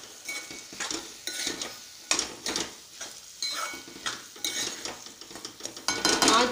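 Rajasthani fresh turmeric sabzi with cauliflower and salt being mixed in a pan: repeated close scraping strokes of a metal spoon against the pot over a light sizzle, in an irregular rhythm, with no speech.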